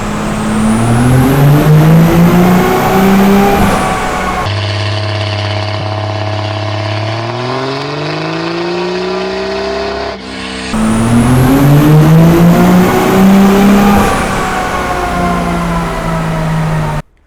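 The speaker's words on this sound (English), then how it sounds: "We're gonna do a dyno pull right now and watch it drop." Car engine on a dyno during a full-power pull, loud rising revs that climb to the limiter, drop into a lower droning run, then climb again in a second hard pull, close and with no talk.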